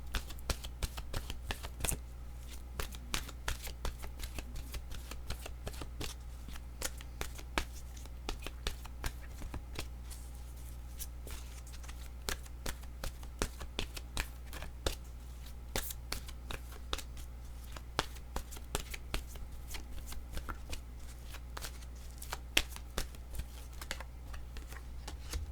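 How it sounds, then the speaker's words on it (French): Oracle cards being shuffled by hand, a quiet, continuous run of soft flicking and riffling clicks that carries on steadily for the whole stretch with no talking. "Je vais demander une carte de mon oracle de l'âme intuitive."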